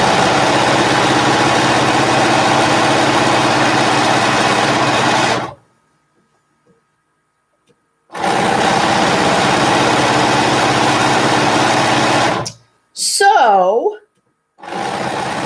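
A sewing machine stitches binding onto a customer quilt, running in two long steady bursts separated by a pause, followed by a brief rising whine; a voice speaks once briefly.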